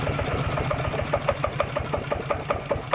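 A Magnum GT 140 Plus engine with electric start runs steadily nearby, a dense mechanical drone with a fast regular ticking pulse, moderately loud and alone with no talk.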